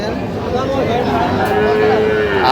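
Sahiwal cattle moo in long, drawn-out calls, one after another, loud and close over a steady hum of crowd noise at a cattle market.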